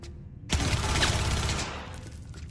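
Rapid gunfire from a weapon in the video game Cyberpunk 2077 erupts after a quiet half-second and rattles on loud and dense for about a second before thinning out.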